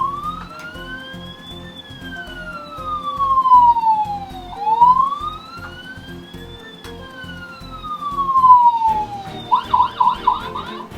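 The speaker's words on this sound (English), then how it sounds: "the lights flash and it makes a police car sound" Electronic police siren from a toy Imaginext Batman Gotham City Police car, loud and close, sweeping up and down in slow wails before switching to a rapid, choppy yelp near the end.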